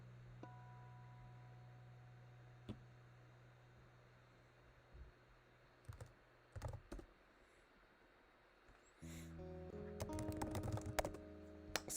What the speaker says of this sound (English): Sorry if you hear my typing.